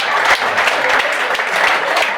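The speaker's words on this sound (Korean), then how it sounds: "여기에 참여하신 남자분들만 박수 한번 주시면 대단히 고맙습니다" Men in a comedy show audience clap together, a short burst of dense, fairly loud applause with no talk over it.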